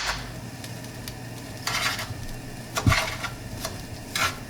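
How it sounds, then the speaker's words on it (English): Butter, sugar and water for English toffee being stirred in a pot, with intermittent scraping strokes and soft clinks of the utensil against the pan, close and fairly quiet with a faint low sizzle. "I'm going to add 2 tablespoons of water and then stir it up."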